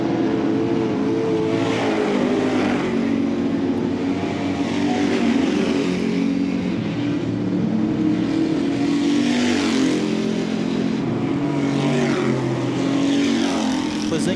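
Dirt track race cars roar around an oval late in a race, with a loud continuous engine drone whose pitch swells and fades as the cars pass, crowd and track ambience underneath.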